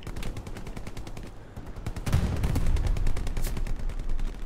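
Gunfire in a World War II video game at Sainte-Mère-Église, rapid rattling bursts of rifle and machine-gun shots in steady succession, fairly close and continuous, swelling louder in the second half.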